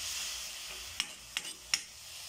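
Washed alamang shrimp paste sautéing in a pan gives a steady, quiet frying hiss, broken by three short sharp crackles or pan clicks close by, with no talking.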